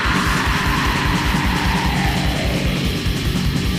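Raw lo-fi black metal recording, a dense, distorted wall of guitar and pounding drums at steady loud level throughout, with a fast driving rhythm and murky, fuzzy production.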